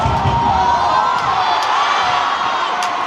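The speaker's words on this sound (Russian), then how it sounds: "по первым минутам очень даже неплохо звучат болельщики сборной Кореи" Korea national team supporters at a football friendly roar and cheer in a stadium, a dense, continuous crowd wash with occasional higher shouts rising above it.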